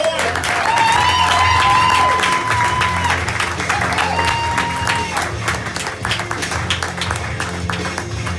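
A comedy club crowd applauds and cheers as a stand-up comedian is welcomed to the stage, loud, dense clapping with whoops, a tonal squeal rising over it early on, and the applause gradually thinning.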